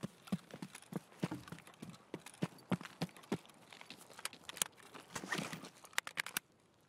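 Enemy footsteps creeping in Escape from Tarkov on the Customs map, heard as a run of soft, irregular scuffs and crunches at close-to-mid range, quiet and uneven in rhythm, with no talk over them.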